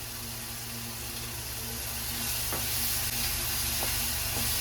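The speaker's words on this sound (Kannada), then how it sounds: "ನಾನು ಅರಿಶಿಣ ಪುಡಿ ಹಾಕೊಂಡ ನಂತರ ಒಂದು ಮಿಕ್ಸನ್ನ ಕೊಟ್ಕೊಂಡಿದ್ದೀನಿ" Turmeric powder being stirred into chili garlic paste frying in oil in a pan for a spinach fry: a steady close sizzle and hiss, with a few faint scrapes of the spoon against the pan.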